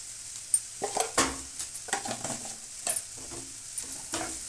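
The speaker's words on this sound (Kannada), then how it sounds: "ಶುಂಠಿ ಬೆಳ್ಳುಳ್ಳಿ ಹಾಕ್ಕೊಂಡು ಸಣ್ಣೂರಿನಲ್ಲಿ ಒಂದು ನಿಮಿಷ ಫ್ರೈ ಮಾಡೋಣ" Ginger and garlic fry in a hot pan while being stirred, giving a steady close sizzle broken by scraping and clacking strokes of the spoon against the pan, with no talking.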